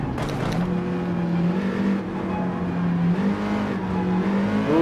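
A Nissan GTR GT3 race car in Gran Turismo 7 at Sardegna, front-engined, drones loudly and steadily, its engine note rising and falling with throttle and gear changes, close and continuous with no talk.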